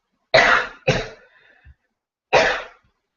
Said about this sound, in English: Excuse me one moment, I have to cough